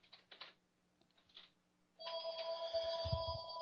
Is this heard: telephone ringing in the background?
yes